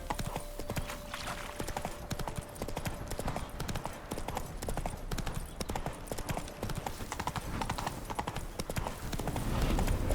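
Horse hooves clip-clop steadily in The Witcher 3 video game, a fast continuous rhythm close by, with ambient game noise and occasional speech beneath.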